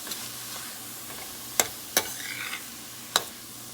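Vegetables for pav bhaji sauté in a pan over a low-medium flame, giving a soft, steady sizzle broken by a few sharp spatula taps against the pan.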